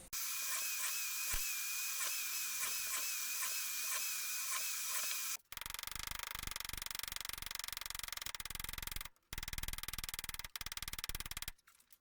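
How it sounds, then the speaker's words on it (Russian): A high-pitched drill whines steadily, then shifts to a rougher grinding bite as it bores holes through a metal strip, stopping briefly a few times before resuming. "Сейчас буду сверлить в ней дырки и отбивать молотком."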